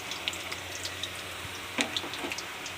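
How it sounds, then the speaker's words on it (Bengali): Potatoes frying in oil, a soft low sizzle with a few light clinks and scrapes of a utensil, quiet and close. "আমাদের আলু ভাজা হয়ে গেছে"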